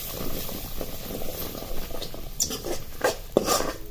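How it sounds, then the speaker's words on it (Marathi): Spoon scraping and stirring masala into pav bhaji vegetables in a pan over a soft bubbling sizzle, with a few sharper clinks near the end. "हा घालून घ्यायचा एक ते दीड चमचा घालायचा आणि हे पूर्ण असं हलवून द्यायचं"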